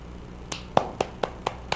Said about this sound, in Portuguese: Ô, gente, vamos bater uma salva de palmas pro Papa?